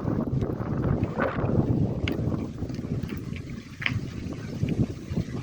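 Steady low rumbling wind noise buffets the microphone outdoors on an uphill path in Germany, continuous and fairly loud, with faint scattered clicks and rustles.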